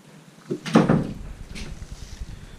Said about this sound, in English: Shut the door, please, Lawson, if you're going out.